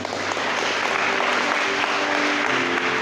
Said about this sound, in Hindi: परमेश्वर का वचन के लिए एक बार जोरदार तालियां।